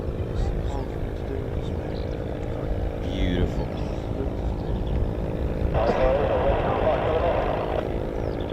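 Supermarine Spitfire propeller fighter of the Battle of Britain Memorial Flight taking off, a steady drone that swells in its final seconds, heard from a distance under crowd noise.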